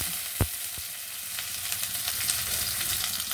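Whole cumin seeds and a bay leaf fry in hot oil with a steady, close sizzle and a couple of sharp knocks early on; no voices.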